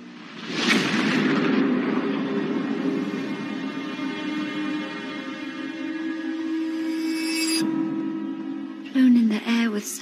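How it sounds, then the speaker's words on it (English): A dramatized explosion in a historical documentary about a 16th-century house blast: a sudden boom swells into a long sustained rumbling roar, then cuts off abruptly with a brief low burst near the end. "It isn't long before an explosion destroys Darnley's bedroom"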